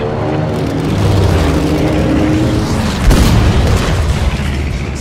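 A heavy tank cannon boom in the video game Battlefield V, with a rumbling low-end blast, followed by another sharp impact and sustained engine-like rumble, loud and close.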